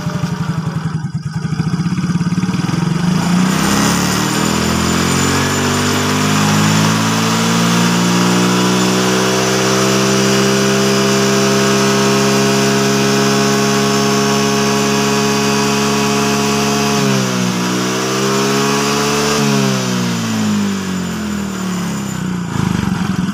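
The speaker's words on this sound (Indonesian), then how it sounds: "di sini mau kita hidupkan mesinnya untuk melakukan pengukuran kembali" A Yamaha Mio J scooter engine with a charging fault cranks and starts, then runs loud and close at a steady idle with a clear droning hum, dipping briefly before settling again.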